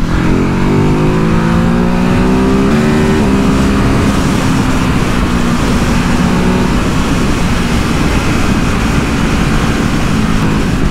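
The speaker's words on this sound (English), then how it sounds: "it's nice being able to rev this out a bit more freely than before" A Ducati Hypermotard 950 SP motorcycle engine revs up through a rising pitch on a road ride, loud and close over steady wind rush, then carries on under a constant roar.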